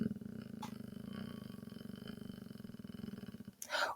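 A person imitates a cat purring with a low, steady, rhythmic rattling in the throat, held close for several seconds before a brief breathy release at the end.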